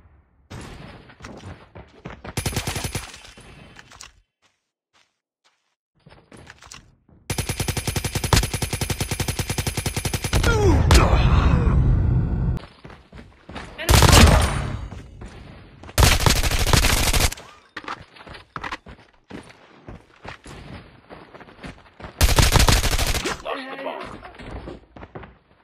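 PKM machine gun firing in a video game, with several long, loud automatic bursts separated by quiet gaps and scattered thuds, close and dominant throughout.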